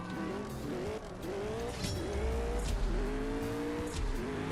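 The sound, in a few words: race car engines in CSR2 Racing video game race start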